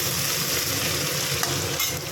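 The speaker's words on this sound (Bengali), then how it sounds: "ভালো করে একটু ভাজা ভাজা করে নেবো" Chopped onions frying in a pan over mustard-seed and chilli tempering, a continuous close dense sizzle with faint stirring.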